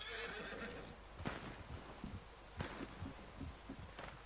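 A horse in the video game Red Dead Online whinnies, followed by soft, irregular hoof thuds and a few dull knocks, all fairly quiet against a steady background hiss, with no talking.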